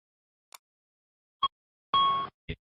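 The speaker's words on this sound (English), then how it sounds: "You hear the chime and see the master caution lights." An Airbus ECAM master caution sounds as a single sharp chime tone, preceded by a few short clicks and followed by another brief click, loud and isolated against silence in an aircraft monitoring-system demonstration.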